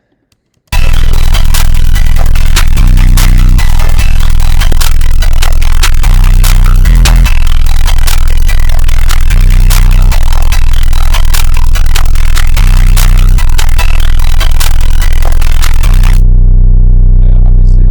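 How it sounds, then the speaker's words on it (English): Unmixed rap beat made in FL Studio, a loud, dense loop with heavy booming bass notes and busy percussion, playing continuously before cutting out near the end. "without any sort of mixing, I mean, the beat sounds somewhat like this"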